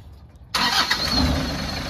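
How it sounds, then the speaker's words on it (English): A car engine cranks and catches after about half a second of quiet, then settles into a steady, loud idle, heard up close at the start of an incline driving lesson. "So I want you to start your car for now."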